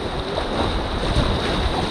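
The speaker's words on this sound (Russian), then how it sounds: "Все гребем, гребем! Левой гребем!" Raft on the Indigirka river pushing through waves, with steady broadband water rush and wind noise throughout, paddle strokes blending into the continuous surf-like wash.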